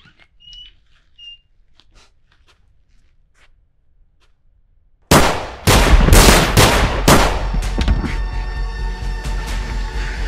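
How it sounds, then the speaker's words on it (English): Loud gunshots burst out after a hushed stretch of faint sounds, a rapid cluster of sharp cracks followed by ringing, echoing tails, set in a tense staged scene in a remote spot. "Nobody to hear the gunshots."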